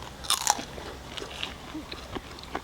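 Crisp pancetta-wrapped chipolata sausage bitten close up: a sharp crunchy bite followed by several softer crackling chews, then quieter mouth sounds.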